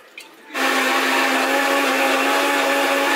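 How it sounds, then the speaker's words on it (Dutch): A kitchen blender whirs into action on a watermelon cocktail, starting abruptly after a brief clatter and running as a loud, steady motor roar until it cuts off. "Ik ga dit in de blender doen nu."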